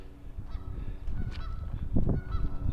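Several Canada geese honk loudly and repeatedly nearby, harsh nasal calls overlapping in an irregular burst with no talking.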